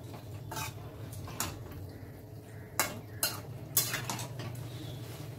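A utensil mixes fried capsicum, tomato, onion and green chillies in a pan, scraping and clinking against the metal in several sharp strokes over a steady low sizzle, close by and without talk.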